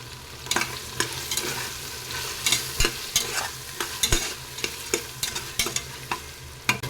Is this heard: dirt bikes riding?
no